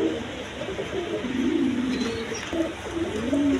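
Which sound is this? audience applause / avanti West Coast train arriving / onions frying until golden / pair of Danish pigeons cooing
pair of Danish pigeons cooing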